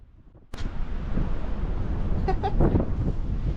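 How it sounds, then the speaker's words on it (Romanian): Strong wind on Gran Canaria buffets and roars against the microphone after a sudden start, a steady blustery rush with faint tonal cries mixed in. "Ia uzi cum urlă vântul."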